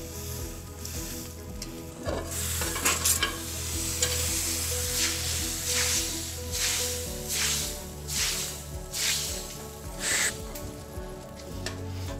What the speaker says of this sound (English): I got some red wine. I'll let it simmer for a little bit.